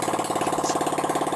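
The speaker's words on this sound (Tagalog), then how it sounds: "So ito na nga yung makina guys, napaandar na namin." A restored, formerly rusty engine runs just after starting, a steady fast rhythmic chugging idle that stays even and close throughout the short stretch.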